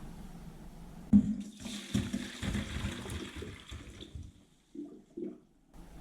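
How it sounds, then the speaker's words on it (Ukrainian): Boiled cauliflower drained into a sieve in a home kitchen: a sudden splash, then a few seconds of hot water pouring and gurgling, tapering into quiet drips and small clinks. "Минуло 10 хвилин, відкидаю капусту на сито."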